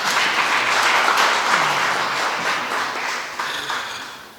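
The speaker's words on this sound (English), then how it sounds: "Please clap for our presenters." An audience at a public dialogue forum applauds presenters coming forward, a loud burst of clapping that gradually fades over a few seconds.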